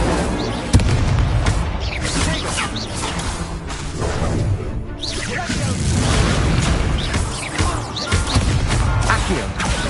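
An Incendio fire spell exploding in Hogwarts Legacy combat: loud, rolling booms and crashes with whooshing bursts that pile up continuously.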